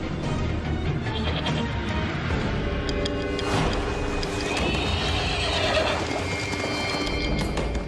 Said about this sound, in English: One animal that gives any human who can tame it an almost unbeatable edge is the horse.